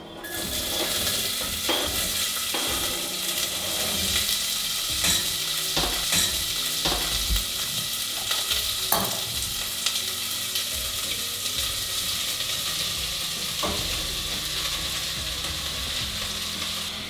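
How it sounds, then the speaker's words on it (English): Vegetables for a white bean and veggie soup sizzle in a hot soup pot, a continuous close hiss broken by repeated spoon stirs and clinks against the pot. "you can also just add in all of the veg all at the same time, and we're just gonna let it cook for a couple minutes"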